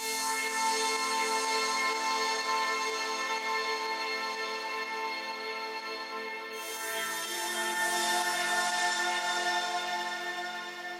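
Layered Diva synth pads, including the Vegas pad preset from a Melodic Techno Academy pack, blend into one thick, bright sustained chord for melodic techno, with the low end thinning out partway through and no talking.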